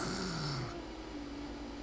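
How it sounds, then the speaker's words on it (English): A character in the video game Genshin Impact snores loudly, one long, rumbling, nasal snore heard on its own. "That's a very loud snore."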